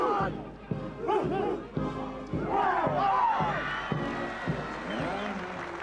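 A rugby league crowd gathers at Cougar Park for a 1995 World Cup match, with loud, overlapping voices, shouts and chant-like calls, and a speaking voice over the top.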